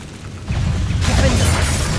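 An Incendio fire spell cast in Hogwarts Legacy bursts into a loud, roaring whoosh of flame that swells and sustains as a dense rush with a deep rumble, heard alone without talk.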